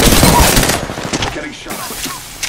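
Rapid automatic gunfire in a battle royale video game bursts loudly at first, then thins into scattered shots and fades, with muffled game sounds in the background.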